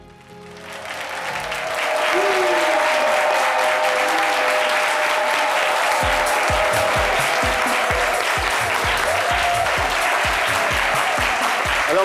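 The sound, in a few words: studio audience applauding the guest's arrival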